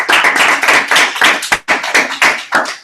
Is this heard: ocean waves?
no